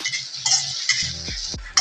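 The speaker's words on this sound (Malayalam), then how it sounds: "നമുക്കൊരു കോരി ഒരു പാത്രത്തിലേക്ക് മാറ്റാം" A spoon scoops sautéed okra from a pan into a bowl in a Kerala kitchen, quick metallic scrapes and clinks with a couple of hollow knocks, close and clear.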